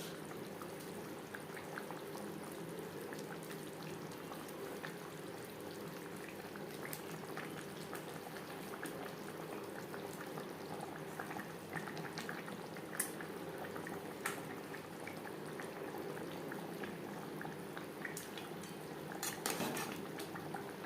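Fried katla fish going into a simmering potato gravy, with a low bubbling hiss throughout, faint stirring scrapes and a few small clinks of a utensil against the pan, quiet and close.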